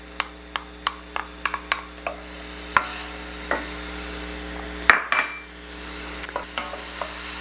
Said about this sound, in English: as soon as the butter melts, we're going to cook 1 medium chopped onion